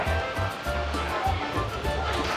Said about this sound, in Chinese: 海的声音。